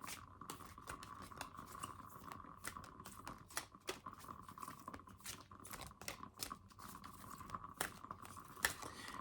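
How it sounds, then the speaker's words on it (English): Rapid, soft riffling and slapping of tarot cards being shuffled up close, a steady stream of crisp clicks and flutters. "And shuffle these cards for you."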